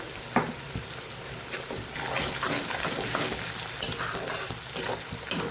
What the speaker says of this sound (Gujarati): કોબી સરસ પાકી જાય, કોબી ને ડુંગળી, ત્યાં સુધી આપણે આને સાતળવાનું છે.